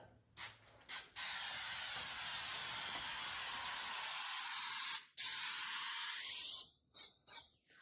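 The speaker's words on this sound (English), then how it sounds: "Now I just spray this right on the drywall." A steady aerosol spray of adhesive onto drywall for attaching corner bead hisses continuously for several seconds, broken by a few short bursts at the start and end, close and loud.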